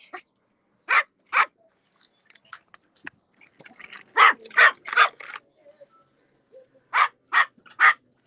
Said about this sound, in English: You like him even though he barks like this?